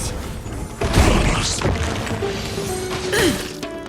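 A detonation in the video game Honkai Star Rail bursts out as a heavy crash and boom, followed by sweeping whooshes, a mechanical whine and a second smaller impact near the end.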